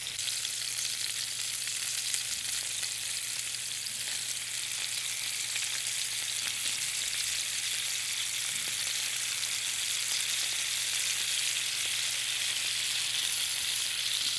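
BBQ steak tips sear in a hot pan, a steady, dense sizzle and fry hiss holding evenly for the whole stretch with no voices over it.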